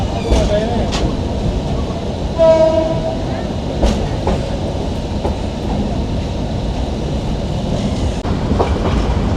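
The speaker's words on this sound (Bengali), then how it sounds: "এই যে আমাদের ট্রেন চলতেছে মনে হয়" A passenger train, the Probal Express from Cox's Bazar to Chittagong, Bangladesh, rumbles steadily with rattling clatter and occasional sharp clanks, heard from inside, with a brief high squeal partway through.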